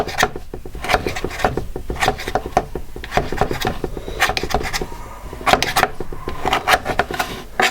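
A knife trims excess pastry off the lid of a mushroom, leek, lentil and carrot vegetarian pie, making close, repeated scraping and tapping strokes against the dish rim throughout.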